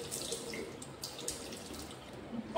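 Water runs steadily from a tap into a sink while a face is washed, a soft close splashing hiss with small irregular splashes and no speech.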